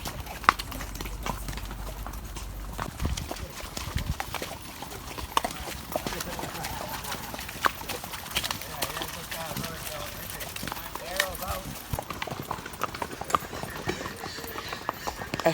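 Horse hooves clip-clop steadily through a guided horseback trail ride near El Yunque rainforest in San Juan, Puerto Rico, close and continuous, with a horse trotting up past others, mixed with outdoor ambience and some talking.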